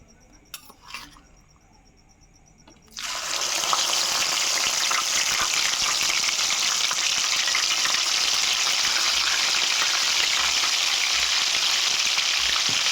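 Fresh ginger garlic paste dropped into hot oil for chicken pickle: after a quiet start with a couple of clinks, a sudden loud, dense frying sizzle begins and holds steady and close to the end.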